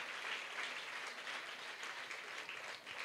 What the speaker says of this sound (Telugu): ఫాదర్ గారికి మన యొక్క పుణ్యక్షేత్రం తరపున గట్టిగా చప్పట్లు కొట్టి అభినందనలు తెలియచేద్దాం